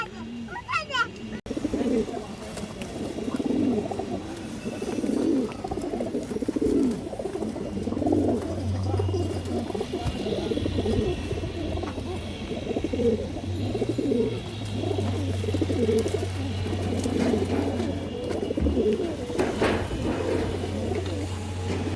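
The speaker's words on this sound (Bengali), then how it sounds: "আপনাদের তখন ডাক দেখলেন কবুতরটা একজোড়া সবুজ গলা কবুতর" A pair of green-necked pigeons coo close by in repeated low, rolling phrases, with a voice speaking in the background.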